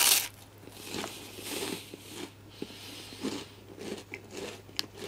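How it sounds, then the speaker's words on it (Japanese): Crunchy chocolate wafer is bitten and chewed close up, giving a run of crisp crunches and crackles at an uneven pace, with no talking. "ウェハースチョコ食べてみたいと思います"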